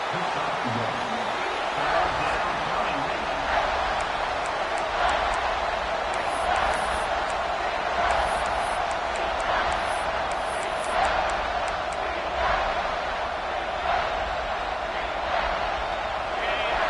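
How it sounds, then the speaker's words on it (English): Stadium crowd noise at an Ohio State versus Wisconsin football game swells into a steady, far-off roar as fans try to rally the defense for a red zone stop, with faint sharp accents rising from the mass of sound. "This crowd is trying to inspire this defense to make a big red zone stop"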